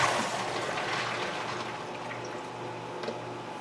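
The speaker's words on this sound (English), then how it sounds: "I'm going to take the beans and drain them" Water pours off beans being drained in a kitchen, a steady close trickling and splashing that runs alone for a few seconds and slowly eases.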